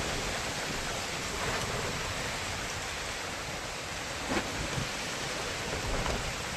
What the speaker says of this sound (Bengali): এই দেখো বৃষ্টি মুষলধারে